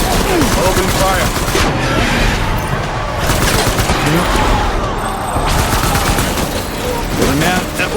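Intense gunfire in Death Stranding, with rapid machine-gun bursts and booming shots in a loud, near-continuous fusillade and brief gaps, voices faintly mixed in.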